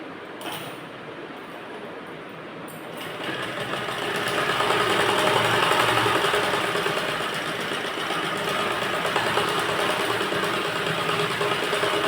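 A sewing machine runs a straight seam through blouse fabric: a steady, fairly loud mechanical whir that starts after a short pause and holds continuously to the end, with no voices over it.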